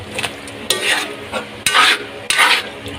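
Sautéed bitter gourd and fried fish being stirred in a pan: several scraping strokes of a utensil against metal over a soft background sizzle, with no talking.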